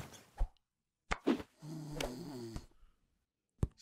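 Snoring from a Minecraft animation comes as a few short, soft snorts and a longer rumbling breath, faint and close, separated by brief silences.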